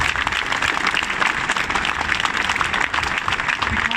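A crowd at an outdoor anti-protocol rally in Portadown claps steadily in a dense, continuous round of applause lasting the full stretch.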